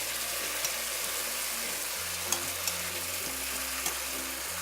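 Whole cumin seeds frying in a stainless steel pot, giving a steady, loud sizzle with a few soft clinks as they are stirred, close up and without speech.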